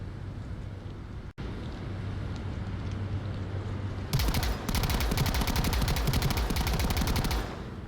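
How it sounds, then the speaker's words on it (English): Rapid automatic gunfire in the VR shooter Onward rattles out as a long, close burst of fast, evenly spaced shots after a quiet, windy lead-in. "Shots coming from blues."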